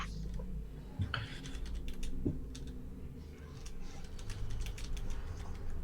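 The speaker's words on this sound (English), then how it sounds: "Hang on, I'm just typing something to somebody." Fingers typing on a computer keyboard, scattered quiet key clicks in irregular bursts over a low background hum, faint and close.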